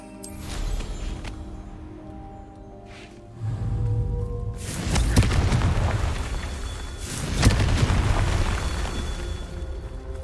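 A Confringo spell explosion in the video game Hogwarts Legacy: a heavy boom swells up around four seconds in, followed by a second loud blast with crackling debris, set against a game soundtrack and ambience.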